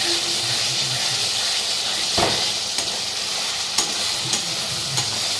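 Spice paste (masala) fries in a pan for a meat curry, a loud continuous sizzle and steamy hiss with a few sharp scraping stir clicks scattered through it.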